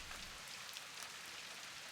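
Steady rain in the puzzle video game Viewfinder, a soft, even hiss of falling drops that stays quiet and unbroken throughout, with no voices.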